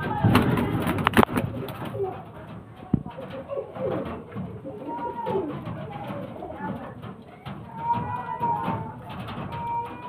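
Active fancy pigeons kept for sale at a home loft coo repeatedly at close range, with a few sharp flapping or knocking sounds early on and a person speaking intermittently.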